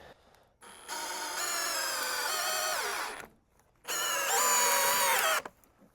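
A power drill drives 2.5-inch screws at an angle into a 2x4, two long whining bursts with pitch that sags under load, separated by a short quiet pause.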